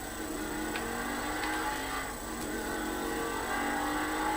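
Car engine in GTA 5 while drifting, a steady droning whine with faint tonal hum and a few brief high ticks, moderately quiet and continuous without clear revving surges.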